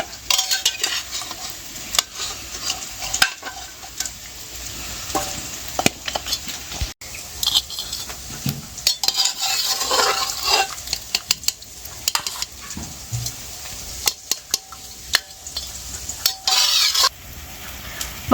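Mutton pieces lifted out of a cooking pot for Bengali mutton curry, with steady metal spoon scraping and clinking against the pot over a soft sizzle, close and continuous with small clattering bursts throughout.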